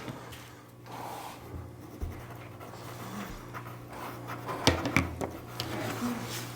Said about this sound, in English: What we're able to do is we're able to color with these just like we would a regular colored pencil.